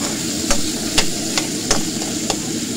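Pork fries in a pan with a steady sizzle while a utensil scrapes and knocks against the pan roughly every half second, close and clear.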